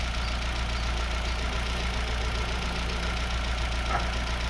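An old engine, a vehicle nicknamed Old Yellow being revived, idles with a steady low rumble and even mechanical chatter, continuous and close throughout.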